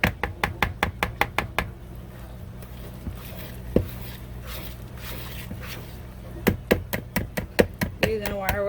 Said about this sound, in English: Using a wire whisk was probably not the best idea.